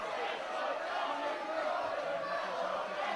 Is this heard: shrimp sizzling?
no